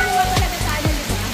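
Heavy rain pours down steadily near a hilltop summit shelter in thick mist, a dense close hiss of water with low rumbling gusts and no voices over it.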